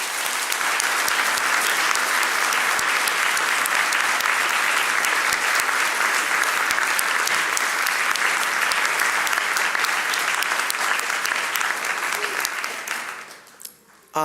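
Convention delegates give sustained applause for nominees, a steady wash of clapping that fades out near the end.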